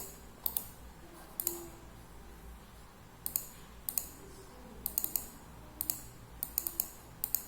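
Bursts of keystrokes clatter on a computer keyboard, short clusters of crisp clicks separated by quiet pauses, close and fairly light.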